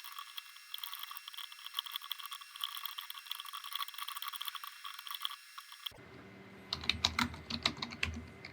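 Rapid, close clicking keystrokes on a computer keyboard while a program is entered in a text editor, sounding in brisk irregular bursts after a stretch of quiet hiss.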